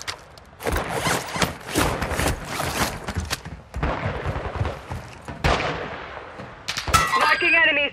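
Call of Duty DMZ gunfire fills the scene: close, loud bursts of automatic rifle fire and sharp shots come in repeated volleys, mixed with metallic clanks and a short electronic game sound near the end.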